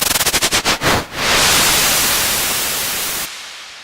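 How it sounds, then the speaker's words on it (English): A synth-generated white noise hiss with reverb and auto-pan starts as quick rhythmic pulses that slow and merge into a steady, slowly fading roar, then cuts abruptly to a faint reverberant tail. "Up here I have this operator, and it's playing white noise with some reverb, and it's going through this auto pan,"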